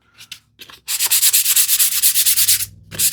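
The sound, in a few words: hand sanding wood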